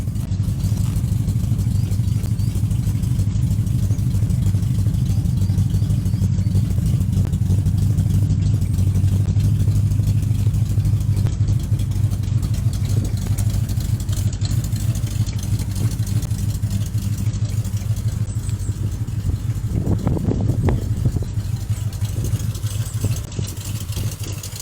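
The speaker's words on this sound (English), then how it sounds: "Let's just listen to that burbling V8." A Triumph Stag's V8 engine burbling at idle, a deep, steady low rumble close by with a faint ticking clatter, rising briefly in a blip of revs near the end.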